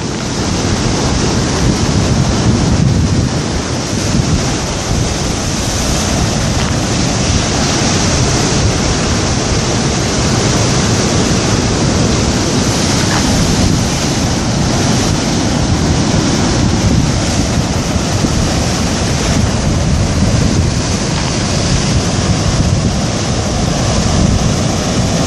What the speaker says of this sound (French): quelques vagues